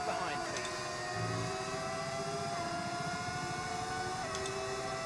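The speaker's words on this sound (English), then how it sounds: "The engine sound is amazing." A Formula 1 car engine in the F1 25 racing game, a high revving whine that climbs and shifts pitch through gear changes, heard at moderate level with other cars around.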